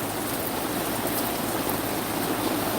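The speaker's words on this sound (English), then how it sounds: "Don't know if you can hear the raindrops, but I'm hiding under my umbrella." Rain pattering steadily on an umbrella overhead in a garden, a dense continuous hiss with no breaks, close and fairly loud throughout.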